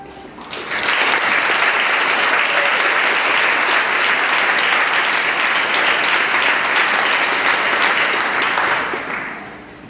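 Full audience applause at a 2016 graduation ceremony: a dense, loud wall of clapping that rises quickly, stays steady for about eight seconds, then fades out.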